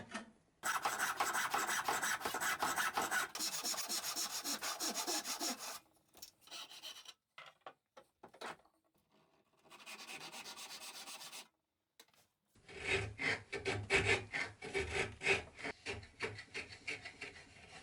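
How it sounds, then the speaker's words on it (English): Hand saw strokes rasping through wood, cutting a dovetail, in steady rhythmic bursts, with a pause in the middle before another run of quick back-and-forth cutting. "cut out a dovetail shape by sawing 2 random shallow angles down to the baseline."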